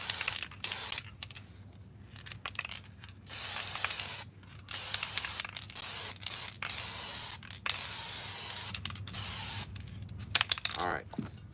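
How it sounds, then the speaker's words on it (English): Short bursts of an aerosol spray hiss out in repeated blasts along the edges of suede-wrapped car pillar trim pieces, with small clicks and handling noises in the gaps. "I'm gonna actually spray the edges"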